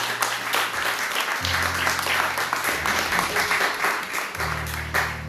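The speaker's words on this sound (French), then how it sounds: "Acclame le Seigneur pour cela." Church congregation applauding and cheering in a large hall, steady dense clapping throughout with a low hum underneath.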